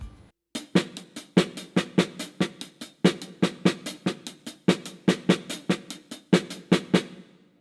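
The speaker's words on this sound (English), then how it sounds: "This is how it will sound like on the drum set." Paradiddles on a full drum set, a fast, dense run of close, loud strokes with recurring accented hits, played alone with no talking.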